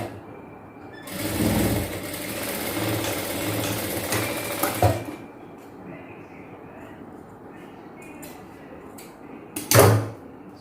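A sewing machine runs in a fast continuous burst for about four seconds, stitching folded chudidhar fabric held tight. A quieter stretch follows, then a short second burst near the end.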